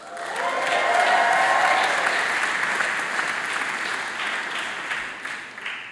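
A class of new university students cheers and applauds together at a matriculation ceremony, a loud, sustained crowd roar with clapping that swells in the first second, stays full, then slowly fades toward the end.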